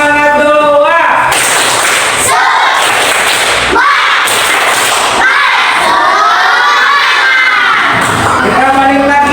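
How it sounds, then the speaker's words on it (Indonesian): Fifth-grade schoolchildren at SDN Kabayan clap and shout for a classmate, a loud, crowded burst of cheering voices and sharp claps filling the classroom throughout. "kasih tepuk tangan untuk temannya"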